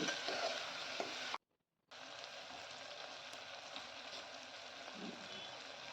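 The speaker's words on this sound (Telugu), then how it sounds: "ఈ బెండకాయలు జిగురు పోయేంత వరకు వేయించుకోవాలి" Okra frying in a pan, a soft steady sizzle with light stirring, broken by a brief gap of silence near the start, quiet and close with no talking.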